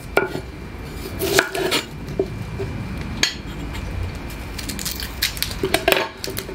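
Shallots go onto a live grill with a few sharp utensil clacks and scrapes over a steady, close sizzling hiss; no talking.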